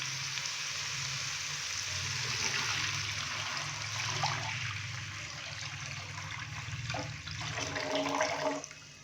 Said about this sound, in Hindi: अभी मैं इसके अंदर पानी डालूंगा।